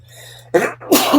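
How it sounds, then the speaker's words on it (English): A single sharp sneeze bursts out in two quick explosive parts after a brief hum, loud and close. "Sneeze."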